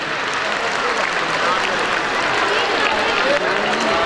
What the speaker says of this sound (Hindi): बेटा तालियां बजा दें खुल के,